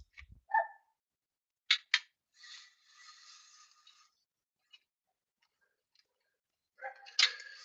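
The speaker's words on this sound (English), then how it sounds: "Hear that little dog outside barking?" A small dog barks outside, a few short distant yaps scattered among faint rustling and quiet gaps.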